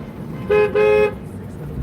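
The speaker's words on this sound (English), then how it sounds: "Gotta honk the horn because everybody gets to the light" Two close, loud honks from a car horn in Bronx traffic, a short blast followed at once by a slightly longer one, over a low background rumble of road noise.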